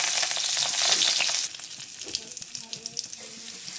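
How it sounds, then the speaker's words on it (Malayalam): Curry leaves and chillies dropped into hot oil in a pan, a loud, bright sizzle for about a second and a half that then drops to a quieter crackle with small scattered pops, close up, no talking. "അപ്പോൾ കരിവേപ്പിലയും മുളകും മൂപ്പിച്ച് വയ്ക്കാം"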